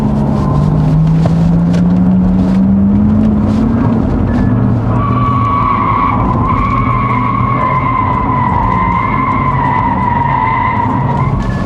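A Porsche Taycan 4S Cross Turismo in Sport Plus mode slides its rear through a downhill corner, with loud, sustained tire squeal and a rising electric drive whine that continues for several seconds.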